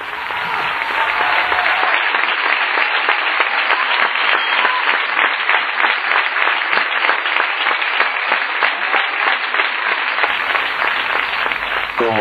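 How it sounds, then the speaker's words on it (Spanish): Loud, sustained applause from an audience at a charity equestrian show fills the whole stretch, dense and continuous clapping with no pause. "Os pido un aplauso para esta familia."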